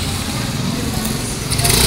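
A motorcycle engine runs at the Unicross cycle center repair shop, giving a loud, steady, rough drone mixed with shop noise that swells slightly near the end.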